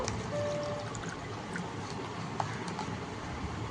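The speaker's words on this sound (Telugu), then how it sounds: "వాటర్ పోసుకుందాం" Water pours steadily into a glass, a soft continuous splashing trickle at close range with no voices.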